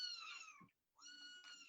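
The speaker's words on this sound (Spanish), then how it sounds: "Se escucha un gato por ahí." A cat meows twice, with a short gap between the calls. The meows are clear but quiet, drawn out and tonal, and come through a quiet indoor background.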